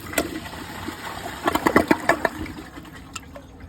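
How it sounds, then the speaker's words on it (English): A 2017 Kohler Wellworth Class 5 toilet flushes up close, giving a few gurgling, splashing surges of water that peak in the middle and then fade to a quieter trickle. "let's give it a flush."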